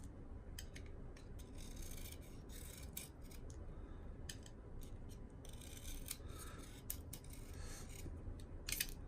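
A pencil shaved by hand with a knife, close up: a steady run of dry scraping and rasping strokes, with short crisp slicing bursts, no voices.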